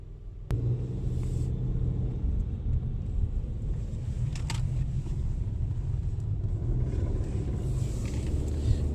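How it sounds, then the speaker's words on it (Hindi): A Nissan Altima cruising along a road in Qatar gives a steady low rumble of engine and tyre noise from inside the cabin, continuous and fairly quiet, with a soft click near the start. "जो गाड़ी मैं अभी चला रहा हूं ये है निसान अल्टीमा"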